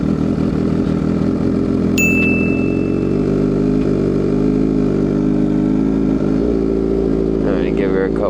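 A cold motorcycle idles after a cold start, a loud steady low engine rumble throughout, with a short high ding near the start and wind noise under it.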